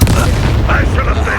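A Bombarda explosion spell going off in Hogwarts Legacy, one short heavy boom at the start that rumbles on through a brief, loud burst of game noise.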